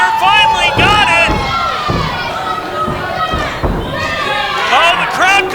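A live wrestling crowd at the Oroville Convention Center roars and chants for one more German suplex, a loud, dense wash of many voices that swells and rises throughout, with a few thuds and shouts mixed in.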